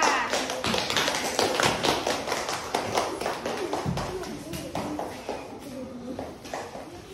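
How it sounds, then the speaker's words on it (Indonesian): A classroom of students claps together for a group after its presentation, a dense patter of many hands at close range, loud and steady before gradually thinning out. "Tepuk tangan buat kelompok 4."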